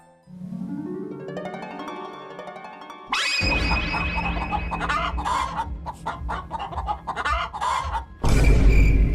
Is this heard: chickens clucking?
yes